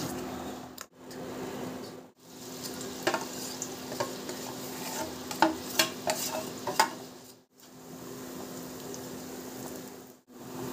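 Soaked dhoka and chana dal paste with salt and turmeric stirred in a kadai, a steady scraping and soft sizzle with scattered spatula clicks, interrupted by brief pauses, close and continuous without speech.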